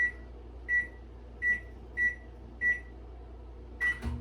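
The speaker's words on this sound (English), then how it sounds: "you want to microwave this at half power" A microwave oven heating white chocolate at half power gives five short, evenly spaced electronic beeps over a low steady hum, followed by a brief clunk of the door or button near the end.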